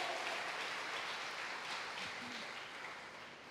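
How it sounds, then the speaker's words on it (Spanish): A church congregation applauds during a Spanish-language service, producing a steady wash of clapping that fades slightly toward the end, with no voices clearly standing out. "Dale un aplauso para el Señor en esta hora"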